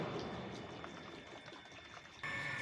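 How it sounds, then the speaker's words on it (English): Water poured into a homemade Starship rocket model, a steady splashing trickle that runs close and continuous for about two and a half seconds, brightening sharply near the end. "We introduce water."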